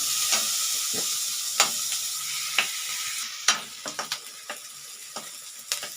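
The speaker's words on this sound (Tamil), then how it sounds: "இது இன்னும் கொஞ்சம் கூட நல்லா வதங்கட்டோங்க" Finely chopped onion, green chili and ginger sautéing in a pan for egg bhurji, a constant hiss of frying with a series of sharp spatula scrapes and taps throughout, no voices.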